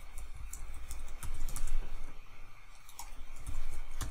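Keys clatter on a computer keyboard in bursts of rapid clicks with short pauses, close up and steady, no speech.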